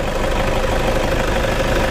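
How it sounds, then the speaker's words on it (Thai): A 2009 Toyota Vigo Smart Cab engine idles smoothly, a steady, even mechanical hum with a low rumble and no misses or surges, heard close up and alone. "เครื่องยนต์เดินเรียบๆนะครับไม่มีปัญหานะครับ"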